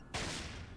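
A single sharp gunshot in the video game Fallout 1 cracks out abruptly and decays into a broad noisy tail, loud and close with no talking.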